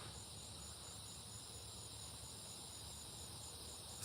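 Crickets chirp steadily at night in a continuous high, shimmering drone that stays even throughout, with no talking over it.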